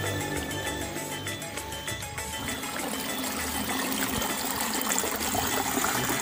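Clear mountain spring water flows steadily in a village in Getasan, Semarang, a continuous broadband rush and trickle close by, with no talk.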